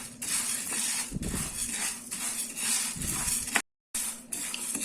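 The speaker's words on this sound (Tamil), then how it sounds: "இப்போ நம்ம இதை போட்டு வறுத்து எடுத்துக்கலாம்" Dry black urad dal roasting over medium heat in a pan, a steady close hiss with stirring scrapes and light rattles of the lentils against the metal, broken by one brief pause.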